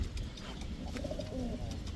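Pakistani teddy pigeons coo close by in soft, low, rolling calls over a steady background hum.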